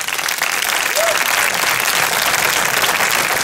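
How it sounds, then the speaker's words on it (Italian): A concert audience applauds to welcome the orchestra's conductor, thick continuous clapping from a large crowd holding loud and steady throughout, with a faint shout near the start. "Dirige l'orchestra il maestro Luigi Mariani, che accogliamo con un applauso"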